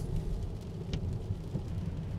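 Steady rain heard from inside a Honda Odyssey Hybrid on a winter drive in Japan, a dense even hiss and patter with low road rumble underneath.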